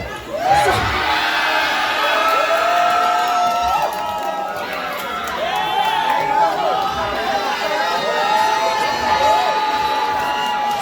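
An audience at a drag awards show in Glasgow cheers, whoops and shouts loudly and continuously, with excited voices overlapping throughout.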